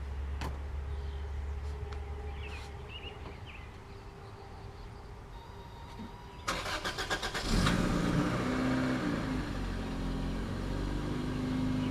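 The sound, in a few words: Toyota MR2 engine cold start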